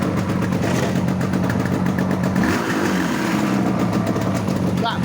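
A Yamaha RD350 LC two-stroke motorcycle engine idles steadily throughout, close and loud with a constant low drone and a rattling plate, under some talk.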